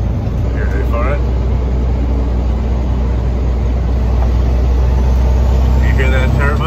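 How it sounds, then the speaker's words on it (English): Turbocharged truck with an Eaton 10-speed transmission runs with a steady heavy engine rumble and a rising turbo whine, loud and continuous, with people talking over it. "Hear that turbo?"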